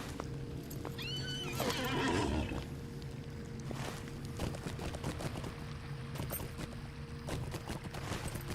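Horse in the Lord of the Rings Online video game whinnying loudly near the start, then steady hoofbeats clopping over ambient game sound for the rest.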